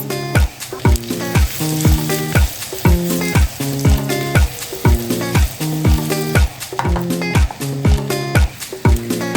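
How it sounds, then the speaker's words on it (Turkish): Meatballs sizzle and crackle steadily in a hot pan, with a rhythmic musical backing running throughout. "Ve şu şekilde yuvarlayarak köftelerimizi kızartalım."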